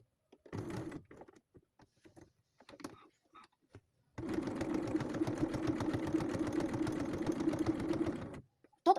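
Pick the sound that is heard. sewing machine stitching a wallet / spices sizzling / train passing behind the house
sewing machine stitching a wallet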